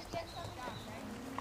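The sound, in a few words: horse hooves clip-clopping at camp ranch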